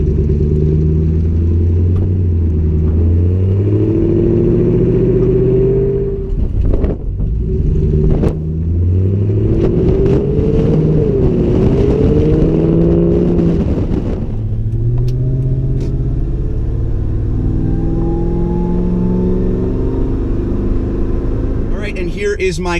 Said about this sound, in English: It has great sound, it's quiet at cruising speeds, and it gives that TRD exhaust that little missing ingredient